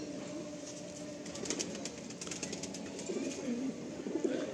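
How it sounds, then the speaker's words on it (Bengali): Madrasi pigeons coo softly and repeatedly in the background, low throaty murmurs beneath a faint ambient hiss, with light rustling nearby. "সুন্দর পায়রা, ভালো স্ট্যান্ডিং করে"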